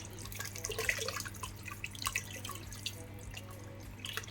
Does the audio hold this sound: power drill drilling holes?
no